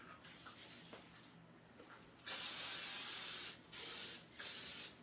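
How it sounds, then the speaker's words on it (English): Pam cooking spray hisses onto a casserole dish in three loud close bursts, one long spray followed by two shorter ones after a quiet moment. "spray this with Pam."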